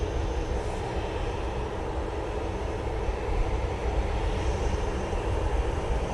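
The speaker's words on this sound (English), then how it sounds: "Emirates taxiing out from the back." An Emirates airliner taxiing out at Manchester Airport, its engines producing a broad, steady, distant roar that holds evenly throughout with no voices.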